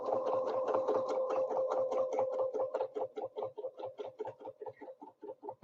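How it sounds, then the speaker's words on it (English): Sewing machine stitching a quilt block, a close, rhythmic needle chatter at a steady pace that slows into separate stitches toward the end, heard alone. "when I stitch up, I should be stitching right on that line"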